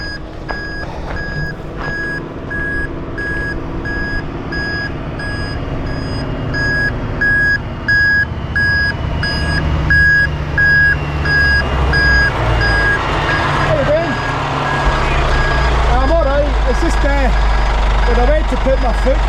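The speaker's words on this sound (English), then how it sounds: "Oh man, 2 big lorries there." Two big lorries reversing on a narrow road in Glen Lean, their steady repeated reversing beeps sounding over rumbling diesel engines and wind, with people talking close by.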